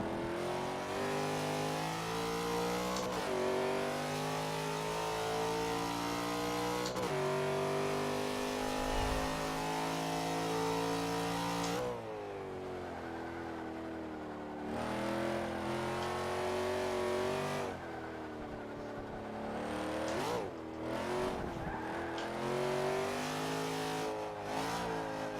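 A tuned race car in a driving video game revs hard through repeated gear changes, its engine climbing and dropping in pitch continuously and loudly for the whole stretch, with no talking.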